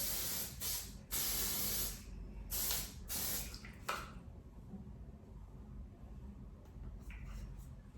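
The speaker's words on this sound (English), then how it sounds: "I'm gonna hairspray everything." Hairspray hisses from an aerosol can onto styled hair with ponytail extensions in a few loud, close bursts of one to two seconds each, then fades to quiet room tone with faint shuffling.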